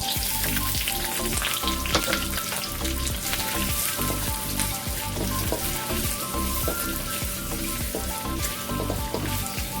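Onion frying in cooking oil for pork trotters adobo, a dense, loud, continuous crackle and sizzle close by, steady throughout with no voices.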